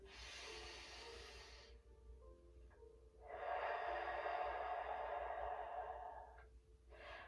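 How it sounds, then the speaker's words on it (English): Deep diaphragmatic breathing during a stretch and flex class: a long hiss drawn in through the nose, then a fuller breath pushed out through the mouth, close and alone, with another breath starting at the end. "Inhale deeply through the nose and out through the mouth."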